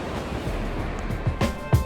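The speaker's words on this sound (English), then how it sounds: "but I tell you, that river is pretty busy." Rushing river swollen with snowmelt near Yellowstone, a steady wash of churning water with wind buffeting the microphone and a few low thumps.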